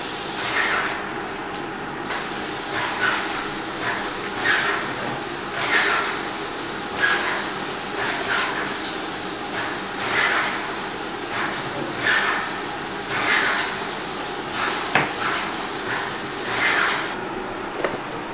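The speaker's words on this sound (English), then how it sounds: "So really important when you're spraying with an airless, which is what I'm using." An airless paint sprayer from Harbor Freight hisses continuously while spraying paint, a loud, steady broadband spray with a few brief pauses and faint knocks in the background.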